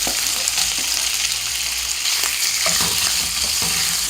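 Two hundred grams of long chicken strips fry in oil with chopped ginger and garlic for a shawarma roll filling, giving a loud, steady sizzle with a few stirring scrapes throughout.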